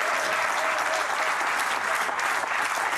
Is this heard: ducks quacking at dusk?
no